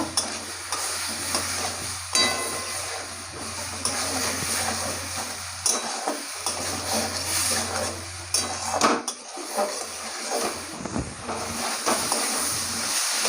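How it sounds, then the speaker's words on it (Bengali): A spice masala with turmeric powder is stirred and sautéed in a pan, with a steady close sizzle of frying under repeated scraping stirs and occasional utensil clinks, no talk. "মশলাটাকে ভালো করে কষিয়ে নেব"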